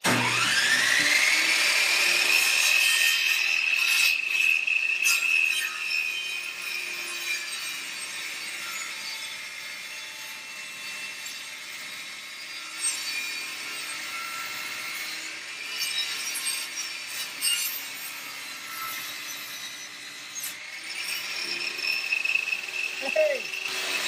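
Chainsaw cutting into the casing of a Tyent water ionizer, a sustained high whining buzz that fades to a rough grinding rasp and returns near the end, with people talking intermittently.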